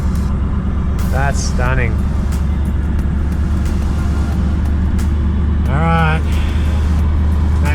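A car drives along a road in Cape York, Australia, with a steady low engine and road rumble throughout, and someone speaks briefly over it.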